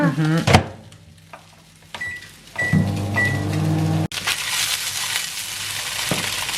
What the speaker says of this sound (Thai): ไมโครเวฟหนึ่งนาทีจ้า